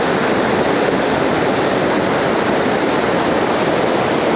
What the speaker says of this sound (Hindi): ये नाला कहीं ऊपर से पहाड़ों से ग्लेशियर पिघल पिघल कर